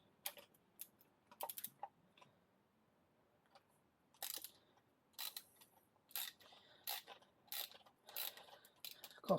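Chainring bolts being cracked loose on a Holdsworth Super Pro bicycle, thread-locked in place: scattered sharp metallic clicks and ratcheting snaps, close and fairly quiet, separated by pauses.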